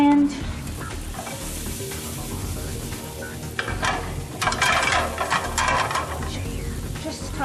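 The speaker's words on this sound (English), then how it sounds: "just saute them until they're nicely sort of caramelized and golden" Food sizzles and fries steadily in a hot pan while being stirred and sautéed until caramelized and golden, close and continuous with occasional scraping.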